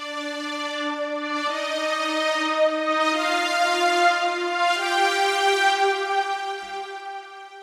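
Smooth Morph synth pad in Logic Pro, soft sustained tones stepping through a few slow chord changes, smooth and steady with a gentle swell and fade.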